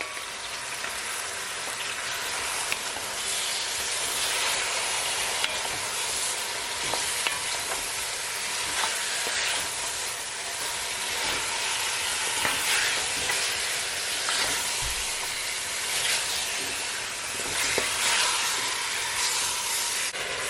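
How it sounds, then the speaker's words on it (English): Jamaican oxtail fries and sizzles steadily in a pot while being stirred, a loud continuous hiss with faint scraping, and no talking. "Now I'm going to give it a stir."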